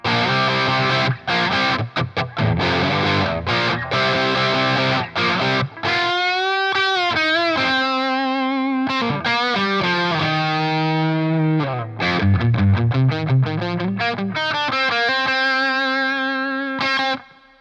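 Electric guitar through a Jam Pedals Rattler mk.2 distortion pedal, heavily distorted, playing loud chords and sustained notes, thick and saturated, with brief choppy stops between phrases.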